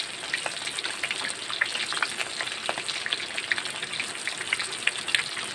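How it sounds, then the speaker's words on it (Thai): Salted tilapia fries in a pan with a steady, crackling sizzle and scattered popping oil spatters, close up and without voices. "มาทอดปลาเกลือนะครับ เป็นปลาเกลือปลานิลนะครับ"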